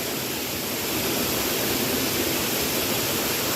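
A waterfall at a farm resort in New Corella pours into a clear blue lagoon, producing a steady, dense, full-band roar of rushing water that stays loud and constant throughout with no voices.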